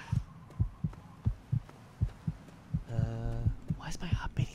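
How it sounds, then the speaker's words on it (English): A low, thumping heartbeat pulses at a quick, steady rhythm in the video game Fallout 3. A faint hum and a short electronic tone sit under it, along with a brief noisy swell near the end. "why is my heart beating so much?"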